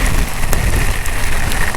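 Heavy monsoon rain pours down during a motorcycle ride on a Royal Enfield Himalayan BS6, a loud, dense, continuous hiss of drops battering close around with no pauses.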